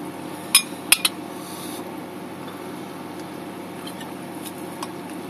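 A Greggs sausage and bean melt being cut with cutlery gives three sharp metallic clinks on a plate close together early on, followed by quiet background hiss with a faint tap later.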